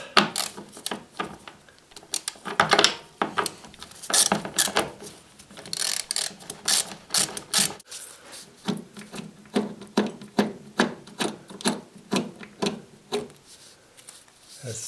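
A ratchet wrench backs out the bolts on a fridge door hinge, giving bursts of quick metallic clicking with short pauses between turns, close up and fairly loud, with occasional knocks of metal parts.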